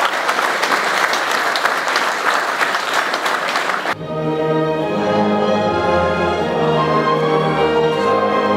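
Guests at a royal decoration ceremony for a 250-year-old guild give a full, even round of applause that runs for about four seconds before ending sharply and giving way to music.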